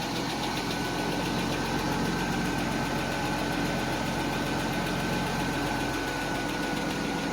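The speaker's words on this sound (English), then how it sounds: "I actually have a decently quiet exhaust." Steady, low idle of a 1991 Mercedes 190E engine heard through its fairly quiet exhaust, an even, unbroken drone with no voices.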